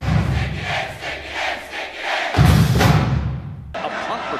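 Football stadium crowd roaring after an interception, a loud, surging mass of cheering and shouting that swells, cuts briefly, then rises again, with a commentator's voice mixed in.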